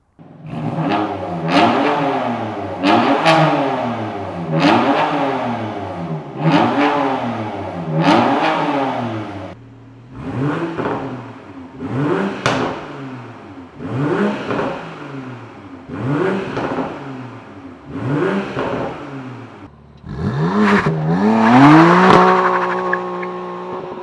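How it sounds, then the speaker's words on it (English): A 2018 BMW M4 engine revs repeatedly while stationary and idling, roughly a dozen sharp throttle blips rising and falling in pitch, close and loud, ending in a longer roaring rev. "BMW actually lets you rev this car while the car is stationary"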